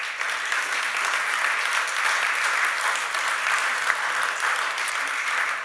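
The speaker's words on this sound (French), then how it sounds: "Je pense qu'on peut les applaudir à nouveau." Sustained applause from an audience at the 2025 PrixCoopCom communication awards ceremony, steady and dense throughout with no clear break, heard close and fairly loud.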